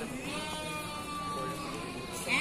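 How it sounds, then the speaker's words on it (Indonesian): Sheep and rams bleating at a livestock market in Cilongok, Banyumas, Central Java: a drawn-out wavering bleat in the foreground with another animal calling briefly at the end over market background noise. "Oke, ini ada domba, ini bandot ya, sudah bandotan."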